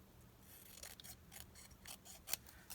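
Scissors snip through fabric being trimmed for a Halloween craft, giving a few quiet, crisp cuts with soft rubbing between them and one sharper snip near the end.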